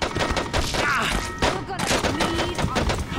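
Shotgun blasts in Saints Row 2 firing in a rapid cluster of loud, close bangs over about three seconds, mixed with a chaotic gunfight and voices talking over it.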